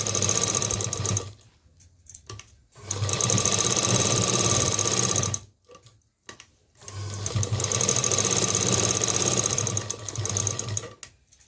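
A sewing machine double-stitches a pocket onto a handkerchief in two long, loud bursts of fast, steady whirring, separated by short pauses and brief stop-start runs.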